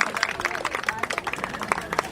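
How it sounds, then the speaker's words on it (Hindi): Clapping at a senior citizens' birthday picnic after a birthday song, a dense patter of many hands with voices mixed in throughout. "जोरदार ताली बजाओ"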